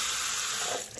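Water pours steadily from a tap to wet a ceramic tile drill bit, a brief, even hissing splash that tapers off at the end.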